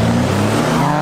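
Alfa Romeo Stelvio engine droning loud and steady as it is revved for a drag race launch, a continuous low harmonic roar with no talk.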